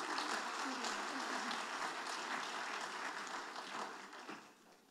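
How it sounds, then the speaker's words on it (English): Audience at a 2022 general election candidate forum in Hollister applauds, with a dense, even stretch of clapping held at a distance that fades out over the last second. "Please give them a round of applause."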